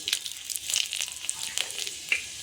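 Bay leaves and dried red chillies sizzle steadily in hot oil for a Bengali mixed-vegetable and fish-head ghonto, a bright continuous hiss with small crackling pops throughout.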